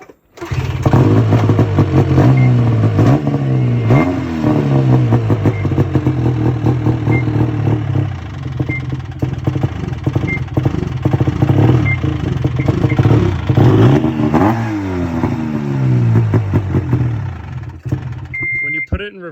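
A fuel-injected snowmobile engine runs loud and close, revving up and down repeatedly with rough clattering pulses before cutting off at the end.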